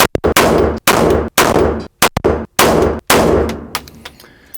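A Smith & Wesson Bodyguard 2.0 .380 pistol, loaded with 10 rounds, fires a run of loud, sharp gunshots at a range, with irregular spacing between them and echoing tails after each report.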